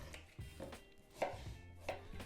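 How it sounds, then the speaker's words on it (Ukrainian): A knife chops cucumber into half-rings on a board, several quiet, irregular cutting taps spaced about half a second apart in a quiet kitchen. "Ось так огірок нарізали."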